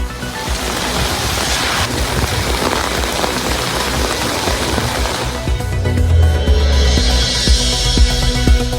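Heavy rain driven by strong wind hisses densely and loudly, with a steady roar that shifts midway into a lower, rumbling tone alongside a faint hum.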